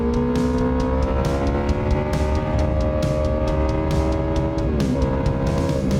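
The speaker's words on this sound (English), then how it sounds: "That's how I record those juicy exhaust sounds for you guys." A motorcycle's exhaust drones loud and steady nearby, a rich harmonic engine note holding constant before dipping briefly in pitch near the end.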